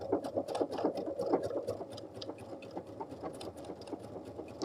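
A sewing machine stitches decorative patterns onto a bag, running in a steady, fast mechanical patter of needle strokes that stays close and even throughout.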